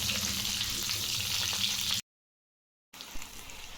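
Stuffed brinjals fry in a pan and are stirred now and then, with a continuous close sizzle broken by a short dead silence before the crackling returns with a scraping stir.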